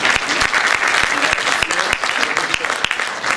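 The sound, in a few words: audience applause for Josh at Disney Toy Fair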